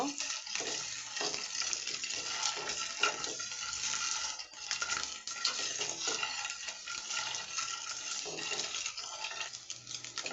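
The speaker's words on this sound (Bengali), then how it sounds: "ডিমটা ভেজে নিয়ে ডিমটা ভুনা করব।" Eggs frying in oil in a pan before being cooked down into a spiced egg bhuna, a steady close sizzle broken by repeated scraping and stirring clatter, with no talk.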